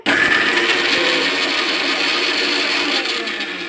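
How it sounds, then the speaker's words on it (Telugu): A mixer grinder grinds curry leaves with dried chillies and spices, a loud, steady whirring roar that runs without a break and eases slightly toward the end, with no voices. "ఆకు వేసి ఆకును కూడా మిక్సీ పట్టుకుందాం"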